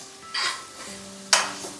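Turmeric hitting hot ghee during a tempering for a light, healthy dish gives two short bright bursts of sizzle over a low steady pan hiss, the second sharper and louder.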